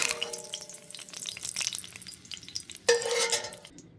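Eggs sizzle on top of spinach in a frying pan with a quiet, crackling hiss, and a brief clatter of a utensil against the pan cuts in near the end.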